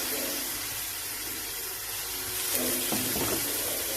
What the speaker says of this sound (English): I'm just going to add some of the water